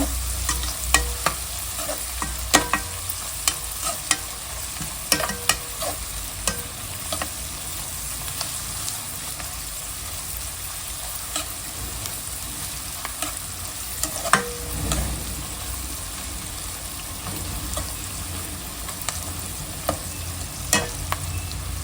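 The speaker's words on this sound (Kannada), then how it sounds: "ಆನಿಯನ್ ಫ್ರೈ ಮಾಡೋದು ಸ್ವಲ್ಪ ಲೇಟ್ ಆಗುತ್ತೆ" Onions frying in a pan for basmati rice biryani, cooked until browned, give a steady close sizzle with repeated scraping stirs across the whole stretch, no voices present.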